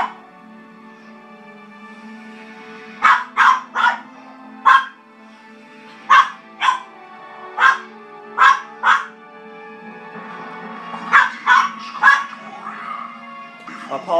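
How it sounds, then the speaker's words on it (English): A dog barks intermittently in the background, single and doubled barks spaced over several seconds, moderately loud over a steady low hum. "Apologies if the barking in the background it gets on your nerves."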